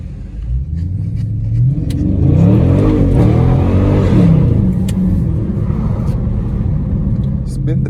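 A widebody Scat Pack muscle car revs loudly while sliding on wet roads in the rain, its heavy engine note rising and falling through a drift, with a voice heard over it.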